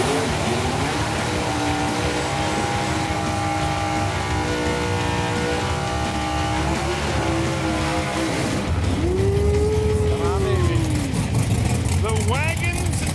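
A wild 1984 Chevy Camaro does a burnout at a Pass Time drag-racing event, its engine roaring and revving hard under a crowd and announcer's voice, with tyre squeal rising near the end.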